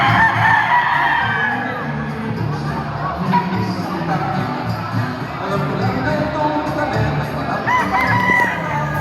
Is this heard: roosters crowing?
yes